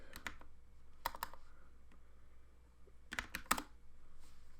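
Keys clatter on a computer keyboard as an ifconfig command is typed on an Ubuntu server, in two quick bursts of close, crisp clicks separated by a quieter pause.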